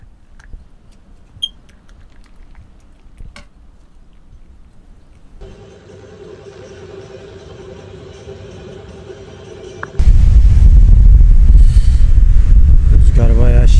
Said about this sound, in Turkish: Rüzgar bayağı şiddetli.